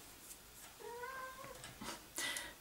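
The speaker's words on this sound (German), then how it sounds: "Eine Katze." A cat meows indoors, a single drawn-out rising call followed by a shorter second meow, fairly faint against quiet room tone with no talking.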